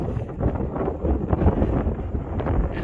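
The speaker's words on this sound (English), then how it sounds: "Gonna hide myself from the wind there." Strong gusts of wind buffet a hilltop along the M S Greenway, a loud continuous roaring rush blasting the microphone throughout, with no speech.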